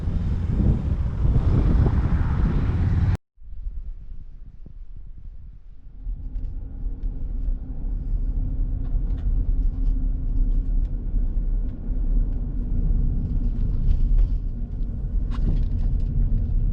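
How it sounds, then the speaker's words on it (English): Traffic on a highway beside a trailhead parking area rumbles steadily, with a loud close wind-buffeted roar at first, then a continuous lower drone of passing cars that swells and fades. "we're sitting right on the highway, so you can probably hear cars behind me"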